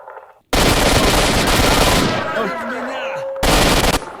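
Kalashnikov rifle fire in the S.T.A.L.K.E.R. Shadow of Chernobyl video game: a long, loud automatic burst after a brief quiet start, a trailing echo, then a second close burst.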